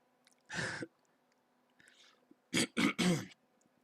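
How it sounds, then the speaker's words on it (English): Close, dry coughing or throat clearing: one rough burst, a softer rasp, then three quick harsh coughs in a row, with no talk over them. "Sorry, I was like coughing."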